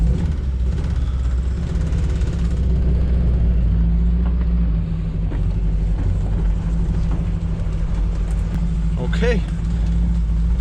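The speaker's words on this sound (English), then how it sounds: "we're driving. We're not gonna rush anything." A Ford Transit Mk2 camper van driving slowly, its engine a steady low rumble inside the cab while people talk over it.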